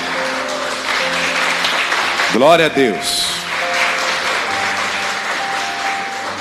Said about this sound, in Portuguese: Aplauda o Senhor, que Ele merece.